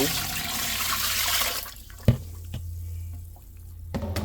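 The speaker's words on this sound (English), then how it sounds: "I put 2 quarts of water in this bowl" Water pours steadily into a bowl, about 2 quarts, then stops, followed by a few faint clinks and drips in a quiet room.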